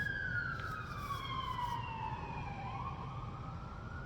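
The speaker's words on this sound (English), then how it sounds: "Yo, the sirens are going crazy." Sirens wailing outdoors at a distance, a falling tone sweeping down over a few seconds with a second siren overlapping, faint over low background rumble.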